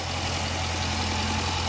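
A 2015 Dodge Challenger R/T Scat Pack's 6.4 liter Hemi SRT V8 with 8-speed transmission idles steadily under the open hood, a continuous low rumble with no talking.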